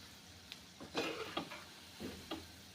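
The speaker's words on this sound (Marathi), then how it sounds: "गोल्डन कलर पर येईपर्यंत आपल्याला हे छान तळून घ्यायचे आहेत" Shankarpali sweets deep-frying in oil, a faint, quiet sizzle with a few soft clinks and scrapes of a slotted spoon stirring through the pieces, close and without speech.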